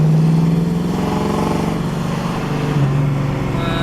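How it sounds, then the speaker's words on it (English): A 1971 Ford Mustang Mach 1 with a three-speed gearbox pulls away up a road, its loud low engine drone holding steady, then dipping and rising again around a shift, heard close and without talk. "we'll just do a quick boot up the road here. So first gear, nice easy shift at 30 miles"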